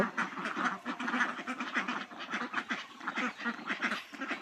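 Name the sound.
domestic ducks quacking on a village farm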